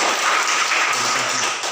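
A classroom group of children gives a short burst of applause, dense steady clapping that fills the room.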